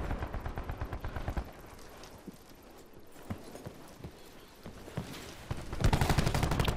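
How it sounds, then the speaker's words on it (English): Rapid bursts of gunfire in Call of Duty Black Ops 4 Team Deathmatch come in clustered volleys, loud at the start and end with sparser shots between, with no talking. "Holy gunfire."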